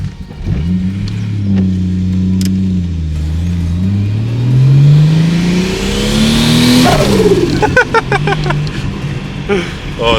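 Barn-find Ford EF XR6 engine cranking and firing up for the first time, then revving loudly with rising and falling pitch up close, with people talking over it.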